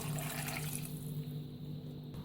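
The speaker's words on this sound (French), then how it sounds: "J'ajoute 1 litre d'eau." A litre of water poured from a height into a cooking pot holding cooked potatoes, a continuous close splashing gush that tapers off near the end, with no speech.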